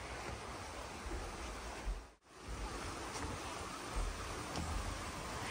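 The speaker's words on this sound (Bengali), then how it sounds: "এই যে এটাই হচ্ছে সেই স্ক্যালওয়েথ ফোর্স ওয়াটারফল।" Scaleber Force waterfall seen from a small footbridge: a steady, close broadband roar of rushing water that fills the whole clip, briefly dipping near the middle before surging back, with no voices.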